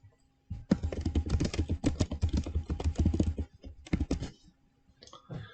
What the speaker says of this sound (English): let's type in a message